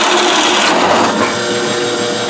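A power drill cuts through a wooden cover panel for a tapered Conibear trap box, with a loud, close grinding bite into the wood that shifts in pitch partway through as the bit works deeper.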